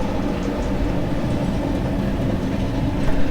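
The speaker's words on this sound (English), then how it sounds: "Alright, there goes our train." A Union Pacific freight train rolls past nearby, producing a steady, loud rumble of wheels and railcars throughout, with faint clickety-clack and a slight swell in volume at the end.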